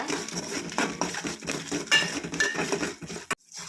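Fenugreek, coriander seeds and dried red chillies dry roast in a pan, with the spatula and pan giving uneven scraping, rattling and clinking that stop abruptly near the end.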